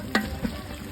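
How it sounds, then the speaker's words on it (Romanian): Lamb pieces fry for stew in a cauldron, a short burst of sizzling with a couple of stirring scrapes, brief and close, no speech. "Bucățile sunt deja la prăjit."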